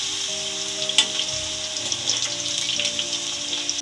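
Potatoes fry in hot oil until browning for a Maggi potato dish, a steady crackling sizzle with occasional sharper pops, close and continuous.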